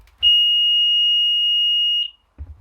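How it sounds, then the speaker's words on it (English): A burglar alarm set off by a pressure mat sounds a loud, steady high-pitched electronic tone for about two seconds, then cuts out, with a few low thumps before and after. "off would go the alarm"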